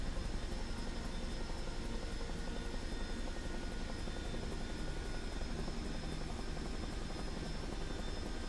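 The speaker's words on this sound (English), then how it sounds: "this is the Chinook that we flew today to start off the stream" Chinook twin-rotor helicopter in flight in Microsoft Flight Simulator 2024, a steady dense rotor and engine roar that fills the whole stretch without letup, close and constant, with no voices over it.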